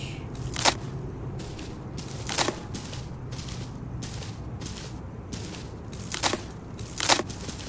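Wooden floorboards pried up in the video game Hello Neighbor give several sharp, separate cracking snaps spread over a few seconds above a low, steady background rumble.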